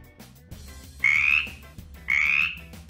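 Felix the Frog, a cartoon frog in a children's letter game, croaks twice in two loud, drawn-out bursts about a second apart over soft background music.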